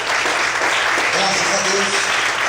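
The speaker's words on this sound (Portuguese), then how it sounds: "Dá aplaudir o Senhor." Church congregation clapping for the Lord, dense steady applause with voices mixed in throughout.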